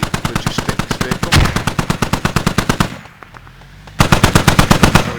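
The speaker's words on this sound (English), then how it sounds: "So we do have a technical here shooting south" A technical vehicle's mounted machine gun fires in a video game, sending rapid, evenly spaced loud bursts close by. One long stream stops near the three-second mark, and after a short lull a second burst starts.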